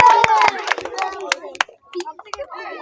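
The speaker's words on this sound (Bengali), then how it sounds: "এই তো, সকালে জোরে হাততালি।" Audience members at a game show clap for a child contestant tossing balls into a bowl. Sharp, uneven handclaps mix with excited voices talking over them.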